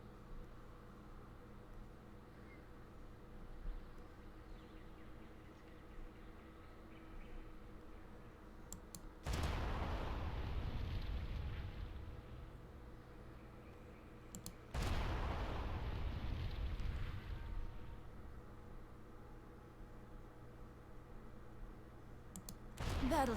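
Explosive barrels blow up in World of Warcraft: two loud, booming blasts several seconds apart, each with a rumbling tail, over a quiet background of faint clicking.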